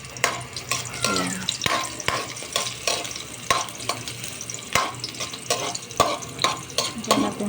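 Garlic sautéing in oil in a pan for Filipino ginisang, a steady close crackling sizzle broken by repeated scrapes and clinks of a stirring spoon against the pan.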